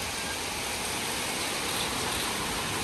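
Heavy rain pouring down during a storm in Thailand, a dense, steady, loud broadband hiss that fills the whole clip without a break.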